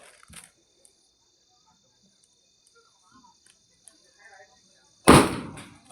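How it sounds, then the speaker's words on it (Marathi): A single sharp firecracker bang goes off near the end, loud and close, after several seconds of near silence with faint scattered ticks. "आता दुसरा फटाका उडाला."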